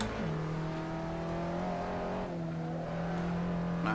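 Race car engine in a multiplayer racing video game, a steady sustained drone holding pitch with a brief dip midway, loud and continuous with no talk.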